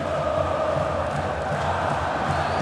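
Cruzeiro supporters chant in a packed football stadium during a Brasileirão match against Flamengo, a dense, continuous roar of massed voices filling the air without a break.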